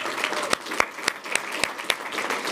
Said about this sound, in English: please join me in applauding their art teachers as well